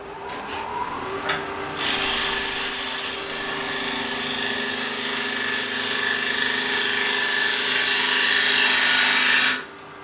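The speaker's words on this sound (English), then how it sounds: "Let's turn our tenon to chuck on." Carbide insert rougher from Easy Wood Tools cutting a tenon on spinning wood at the lathe, a loud continuous shearing hiss over the motor's steady tone, starting sharply after a quieter spin-up and cutting off near the end.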